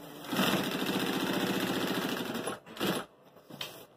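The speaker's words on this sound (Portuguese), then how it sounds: "Aí você vai costurar em cima da risca" A sewing machine stitches fabric along a marked line while lining and a zipper are sewn into a folder with a pocket. A fast steady whirring run of about two seconds is followed by a few short bursts, close and moderately quiet.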